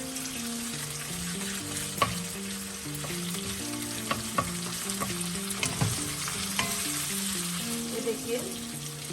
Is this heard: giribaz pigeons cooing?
no